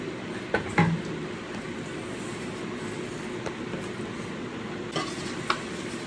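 Potatoes fry and get stirred in a pan, a steady low sizzle under a few sharp scrapes and clinks of the utensil against the metal, fairly close and moderately quiet, with no one talking.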